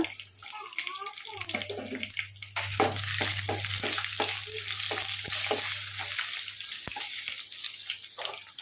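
Cumin and mustard seeds hit hot oil in a kadai, bursting into a bright, crackling sizzle with rapid popping and stirring scrapes, over a low steady hum close by.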